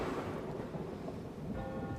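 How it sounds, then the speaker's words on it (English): A rolling thunderclap rumbles over steady, looping rain from a live sound-effects playback setup, faint and continuous with a dense hiss beneath the low rumble. "start the rain with the delayed clock chime, throw on a thunderclap"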